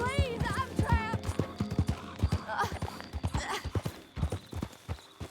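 Horse hooves clip-clop in a steady rhythm close by, with a brief whinny near the start, set in the Red Dead Redemption 2 video game, while people talk over them.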